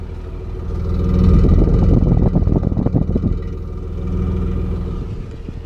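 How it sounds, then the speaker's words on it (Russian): A car's engine revs up through its exhaust, swelling to a loud rumbling peak, settling, then rising again in a softer second rev over a steady idle, heard close by with no talking. "И по традиции надо проверить, как работает выхлоп у машины"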